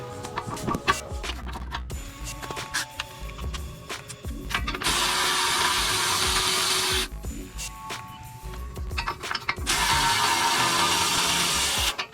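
A 17 mm brake caliper bolt is broken loose on a Toyota JZX100 during a spindle modification, with bursts of a power tool whirring in long steady runs between shorter buzzing spells, loud and close.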